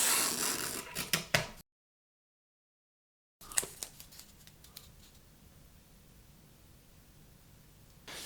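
A piece of tape is handled during a hybrid Les Paul guitar build, giving quiet, close crackly ticks and rustles: a busy burst at first, a short silent gap, then sparser clicks fading out.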